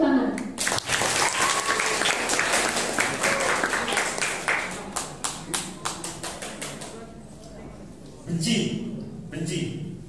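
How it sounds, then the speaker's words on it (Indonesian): Audience applause at a school Easter service as the student council drama troupe of a Christian junior and senior high school in Kudus is introduced; loud dense clapping fills most of the clip, tapering near the end, with a voice briefly over it. "Beri tepuk tangan"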